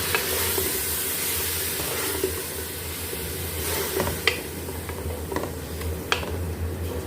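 Ground tomato paste sizzling in a frying pan while a mung dal and keema dish cooks, a dense continuous sizzle with occasional spatula scrapes and clicks, close and fairly loud, with no talking.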